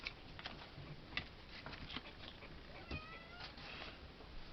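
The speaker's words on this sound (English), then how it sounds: "Coming in there, meowing." A pet cat meows at close range, several short meows spread across the stretch, quiet and with no talking over them.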